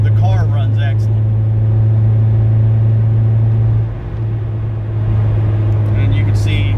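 A 1994 Acura Integra LS with about 220,000 miles cruises along, its steady low engine drone and road rumble continuous under someone talking throughout.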